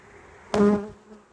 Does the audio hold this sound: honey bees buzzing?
yes